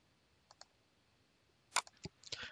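Quiet computer mouse clicks while refreshing a SQL table: two soft single clicks, then a short cluster of sharper clicks toward the end, close and isolated in a silent room.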